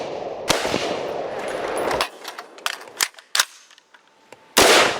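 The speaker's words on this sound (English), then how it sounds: "Special Agent Dave Cheplack demonstrates the power of the AR-15, the weapon of choice in many recent mass shootings." Sharp AR-15 rifle shots crack out one at a time, loud and close, several irregularly spaced reports with short decaying tails between them; the last blast is the heaviest and most sustained.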